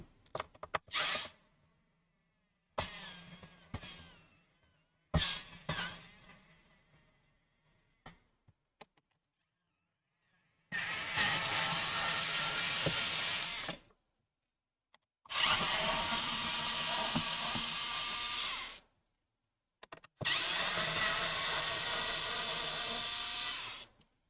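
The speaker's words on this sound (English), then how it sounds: "I'm using the electric screwdriver, so let's go ahead and remove the screws." An electric screwdriver backs Phillips screws out of an Asus Vivobook 17 laptop during teardown, running in several whirring bursts, first short and choppy, then three longer steady runs of a few seconds each, separated by silence.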